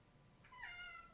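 A hungry cat gives a single drawn-out meow, fairly faint against a quiet room, rising and then falling in pitch.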